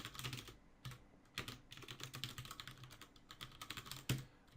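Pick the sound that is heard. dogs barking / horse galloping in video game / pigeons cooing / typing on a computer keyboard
typing on a computer keyboard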